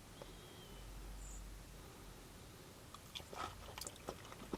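A slice of halloumi dipped in sweet chili sauce is bitten and chewed close up, quiet at first, then a few soft crunches and chewing sounds toward the end.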